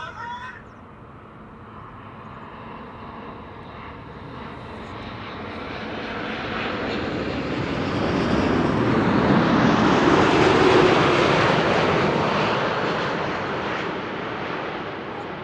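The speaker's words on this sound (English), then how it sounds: "KLM flight 741 arriving from Cartagena." A KLM passenger jet arriving at Amsterdam Schiphol Airport, its engine roar swelling steadily to a loud peak and then easing slightly as it passes, with no talk over it.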